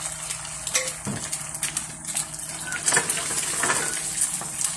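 Utensil scraping and clinking in a pan as food and egg are stirred together, busy repeated metallic scrapes with a light sizzle underneath, fairly close and loud.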